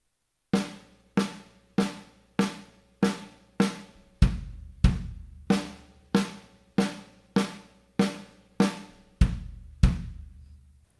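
A drum kit warm-up played slowly and evenly: strokes alternating right and left hand, each group of six followed by two deep bass-drum kicks, repeating across eight-stroke cycles with ringing decay and no talking.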